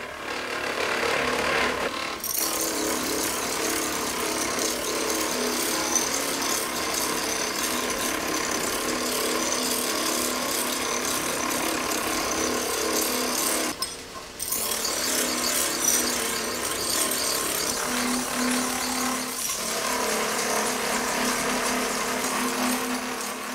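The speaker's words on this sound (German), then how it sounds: "Das Band treibt die Maschine für den Wartenschliff an." Belt-driven grinding machine edge-grinding a Solingen razor blade: a loud, steady, continuous abrasive grind that runs nearly the whole time, with one brief dip partway through and no voices.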